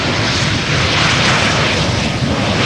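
A passenger airplane lands at Amsterdam Schiphol Airport on a sunny day, nose held high before lowering. Its engines give a loud, steady broadband roar that holds level throughout, with no voices.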